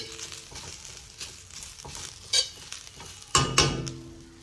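Drumstick leaves frying in a pan while being stirred: a soft sizzle under repeated scraping and clinking spoon strokes, with a couple of louder clattering stirs near the end. No one talks.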